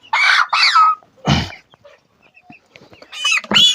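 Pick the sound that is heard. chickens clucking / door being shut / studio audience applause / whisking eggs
chickens clucking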